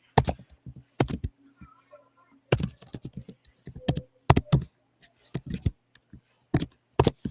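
Someone types on a computer keyboard in quick bursts of crisp clicks separated by short pauses, with faint talk now and then.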